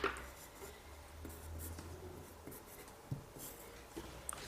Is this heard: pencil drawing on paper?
yes